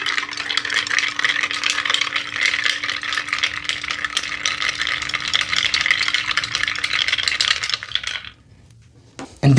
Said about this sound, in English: And now give it a good stir to mix it together.